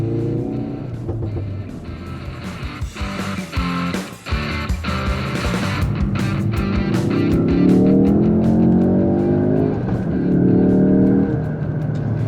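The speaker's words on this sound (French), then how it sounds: "Et en parlant du son de la voiture, très cool, très cool." Ford Focus RS MKIII hot hatchback engine revving and pulling hard, a loud close rasp that rises and falls with crackles and gear changes, with no voices over it.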